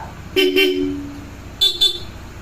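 A loud Bosch car horn sounds close by in two double-toot blasts, the first lower-pitched and the second higher, switched with a selector, with short pauses between them.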